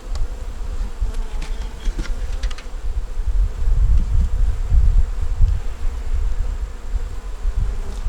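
Honey bees buzz inside an open hive, a steady low drone up close that swells a little partway through, with faint clicks and handling sounds and no talking.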